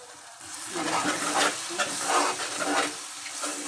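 A tomato curry seasoned with chili powder and salt is stirred in a hot pot, giving a close, hissing sizzle that swells with each pass of the spoon over a few seconds; no voices.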